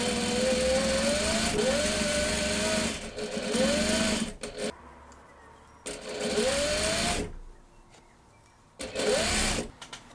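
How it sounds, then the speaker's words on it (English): An overlocker sewing machine finishes garment seams in several bursts of steady whirring stitching, each run rising in pitch as it speeds up, separated by short pauses of near quiet. "I'm just finishing them with my overlocker and then stitching the already done hems on top"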